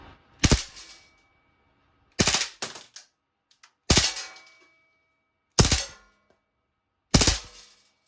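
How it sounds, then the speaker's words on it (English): Replica BB pistol, 1911-style, fired on burst or full auto: five sharp rapid bursts of clattering shots at regular intervals, close and loud, with silence between. "I'm going to switch it to burst,"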